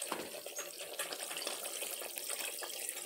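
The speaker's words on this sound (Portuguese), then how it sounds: "vou botar meio litro de água" Half a litre of water poured into a cooking pot of chicken in sauce for a pumpkin broth soup, a continuous soft splashing, trickling stream lasting several seconds with no talk.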